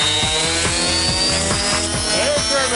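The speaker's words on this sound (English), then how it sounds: "Air turbine." A high-speed air turbine tool spins very fast, giving a loud, close, continuous whine layered with a rough, rhythmically pulsing grinding drone.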